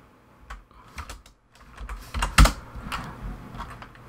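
Command-line text being typed on a computer keyboard while compiling Android for a Raspberry Pi 3, heard as irregular close key taps that build into a brisker burst with one sharp louder stroke.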